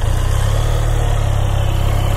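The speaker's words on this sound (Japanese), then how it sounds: "エンジンをね、かけていこうと思います" A Harley-Davidson X350 motorcycle engine starts and runs loud and close, a deep, throbbing idle that holds steady throughout.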